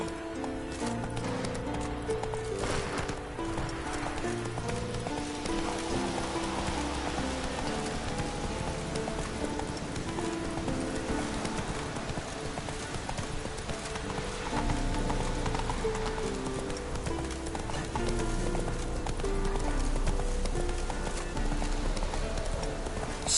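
The horse Roach gallops in The Witcher 3: Wild Hunt, with fast, continuous hoofbeats pounding over a full wash of background game music and ambience.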